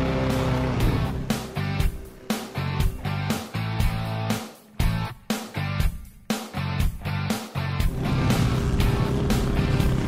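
Cub Cadet riding lawn mowers cut grass with decks set at height three, engines roaring loud and close with repeated bursts and dips as they rev, pass and turn, no voices over them.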